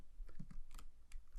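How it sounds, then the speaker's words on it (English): Commands being typed on a computer keyboard in a Kali Linux terminal: a quick, faint run of soft key clicks in an irregular rhythm, close by and quiet, with no talk. "when you type commands here, it will get executed by Kali Linux"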